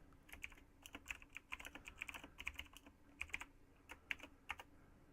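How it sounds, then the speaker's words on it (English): Faint, quick keystrokes on a computer keyboard as a chat message is typed, in irregular clusters of clicks with short pauses, close and quiet. "Professor Plum can also type a message back to all the players."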